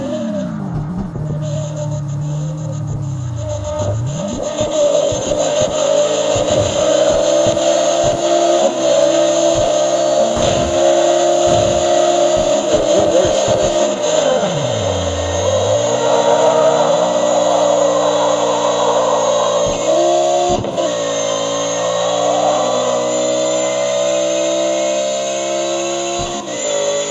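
A Hoonicorn Mustang in the racing game CarX Drift Racing 2 revs hard and continuously, its engine pitch climbing and dropping sharply through repeated gear shifts and throttle lifts, loud and close throughout.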